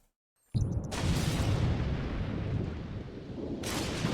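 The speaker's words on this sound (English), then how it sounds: "What, you got struck by lightning twice?" After a short silence, a lightning strike in The Sims 4 video game lands as a sudden loud thunder crack that rolls into a sustained rumble, with a second bright burst near the end.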